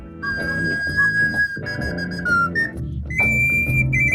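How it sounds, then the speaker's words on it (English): A breathy handmade whistle tuned to the D blues minor scale plays a short, wavering melody of several held notes, some sliding in pitch, close and fairly loud, with no voices. "number 4 is this whistle made by Daniel Rahuvarm, which I bought in Estonia"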